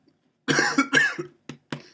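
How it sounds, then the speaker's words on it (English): Several close coughs in a quick, uneven series, harsh and throaty, with short pauses between them. "Cough's coming back."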